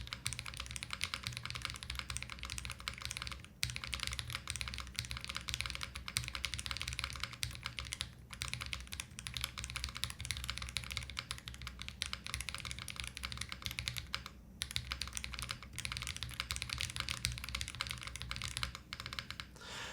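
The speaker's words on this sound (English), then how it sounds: "The spacebar, unfortunately, sounds still a little bit thin." Continuous rapid typing on a mechanical keyboard, dense clacking keystrokes heard up close for a long stretch, no speech.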